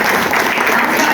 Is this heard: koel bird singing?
no